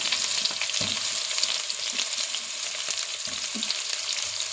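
Carrot and potato pieces fry in a pan for veg biryani, producing a continuous close, even sizzle with occasional soft stirring knocks, no voices.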